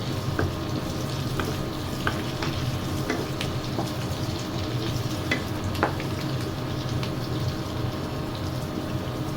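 Garlic sautés in a pan of meat for Filipino humba, a steady close sizzle and crackle with occasional stirring clicks running throughout.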